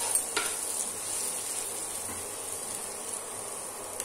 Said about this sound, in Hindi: अब इसको हम फ्राई करेंगे